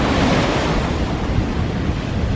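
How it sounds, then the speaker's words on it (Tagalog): Ocean surf at Fulong Beach in Keelung, a dense, continuous roar of breaking waves mixed with wind buffeting the microphone, loud and close, with no voices. "Kakatakot ang alon."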